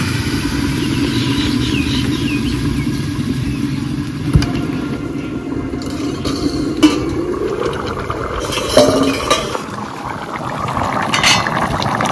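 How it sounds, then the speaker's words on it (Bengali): Hot broth poured onto sizzling tempering spices of radhuni and bay leaf in oil in a pan, giving a steady loud hiss and bubbling that continues throughout with a few faint clinks. "ফোড়নের উপরে ঝোল ঢেলে দেব।"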